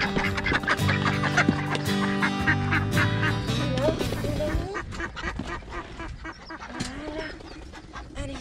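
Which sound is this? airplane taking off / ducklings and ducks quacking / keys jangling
ducklings and ducks quacking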